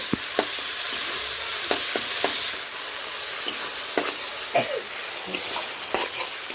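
Pumpkin flowers and tomatoes are stir-fried over medium heat, with a soft steady sizzle punctuated by repeated sharp spatula scrapes and taps against the pan, close and without voices.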